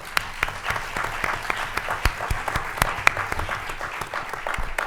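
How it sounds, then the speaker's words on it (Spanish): Audience applause at a post-screening film colloquium, a modest crowd clapping with distinct individual claps audible in an uneven, moderately loud patter throughout. "Un aplauso también para Daniela."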